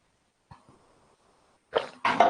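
Someone with a cold coughs close to the microphone indoors: a faint short cough first, then two loud, harsh coughs in quick succession, with no talk.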